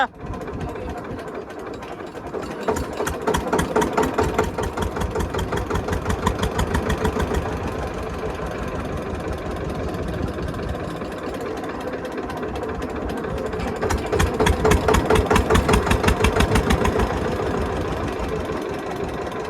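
An engine running a fifteen-year-old buried tube well bore pump thumps with a steady rapid knocking rhythm, close and loud, swelling slightly in intensity near the middle and end.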